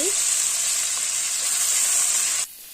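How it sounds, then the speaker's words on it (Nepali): Chopped mushrooms hit a hot wok and fry with a loud, continuous bright sizzle that holds steady up close, then drops abruptly near the end. "अब कराईमा राखेर हामीले मजाले भुट्नु पर्छ। च्याउलाई"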